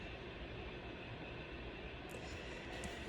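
Trains pass in a steady broadband rumble and roar that stays constant throughout, with a few faint high clicks near the end and no talk.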